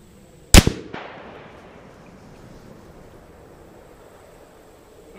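A single loud, close rifle shot from a .300 Win Mag at a sighting-in session, a sharp crack followed by a brief echo that fades into quiet outdoor air.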